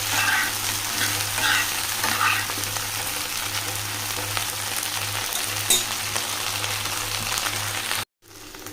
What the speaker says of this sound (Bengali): একটু নেড়ে চেড়ে এটাকে একটু ভেজে নেব